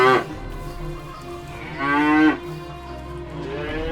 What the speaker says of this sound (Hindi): अचानक से उसका भैंस जोर जोर से चिल्लाने लगी।